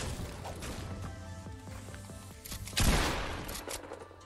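Gunfire sounds out in the Fortnite battle royale video game. A fast burst of sharp shots hits mid-clip over busy game sound, with other game noises around it.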